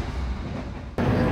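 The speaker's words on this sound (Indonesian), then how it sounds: "kereta Jayabaya melintas stasiun Wadu" A Jayabaya passenger train passes through Wadu station with a loud rushing rumble that suddenly jumps louder midway, as if carriages sweep past close by.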